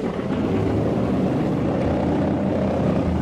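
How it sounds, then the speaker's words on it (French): Propeller engines of a four-engine airplane rumble steadily at night as it starts up and begins taxiing, a dense, continuous drone with no break or voices. "Les moteurs sont lancés et l'avion, pivotant tout doucement sur lui-même, roule lentement d'abord, accélère ensuite et disparaît rapidement dans la nuit."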